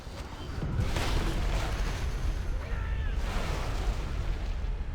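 Ships fire on a crystal in World of Warcraft's Shadowmoon Valley, producing deep booming explosions that swell into a sustained rumbling roar with crackling debris, two surges spaced a couple of seconds apart.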